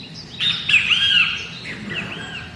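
Birds chirp and tweet outdoors in the wind, bright overlapping calls and trills rising and falling close by over a soft breezy rumble, no talking.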